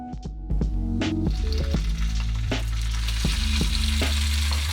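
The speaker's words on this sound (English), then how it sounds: "For the tofu, I want to sear it in some sesame oil." Tofu searing in sesame oil in a hot pan, a bright continuous sizzle that swells as the pieces go in, with occasional low knocks and clatters from the pan, nearby and without speech.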